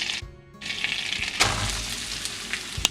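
Chopped onions and cumin seeds sizzle steadily in a hot pan, a continuous close frying hiss with a few soft stirring knocks, briefly dropping out near the start and then filling the rest.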